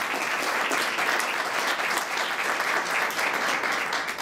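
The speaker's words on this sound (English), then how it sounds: "Let's give Angela a round of applause" A community gathering at a hotel breaks into applause for Angela, a continuous bed of many hands clapping, moderately distant and evenly sustained without speech on top.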